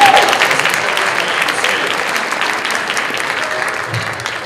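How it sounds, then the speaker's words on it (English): Steady applause from a crowd at an illusionist's show, dense and even throughout, fading slightly toward the end. "Round of applause for Justin."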